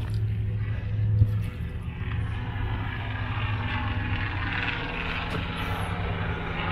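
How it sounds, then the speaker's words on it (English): Helicopter passing overhead outdoors near parked car hauler trailers and trucks, a steady low rotor drone and broadband whoosh holding at moderate level throughout, with a brief thump early on. "looks like a helicopter spying on us"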